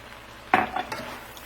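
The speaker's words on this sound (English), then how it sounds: "next we're going to stir in that rice" A utensil clanks and scrapes against a skillet of stuffed peppers as rice is stirred in. One sharp metallic knock is followed by a few softer scraping stirs over a quiet background.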